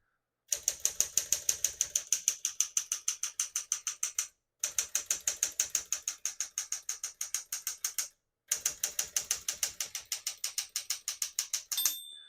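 Steady, rapid keystrokes hammer on a 1964 Smith-Corona Sterling portable typewriter, sharp mechanical clacks in three bursts separated by brief pauses, ending with a bright bell ding and carriage sound.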